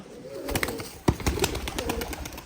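Running pigeons at a pigeon sale give soft, repeated coos close by, with a brief sharp flutter of wings partway through over a light background hum.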